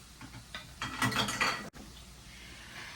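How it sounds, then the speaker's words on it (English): Chopped onions tumble into a pan of broccoli, giving a cluster of clinks and rattles against the metal for about a second, then a sudden cut to quieter kitchen background. "Now I'm gonna go ahead and drop in my onions"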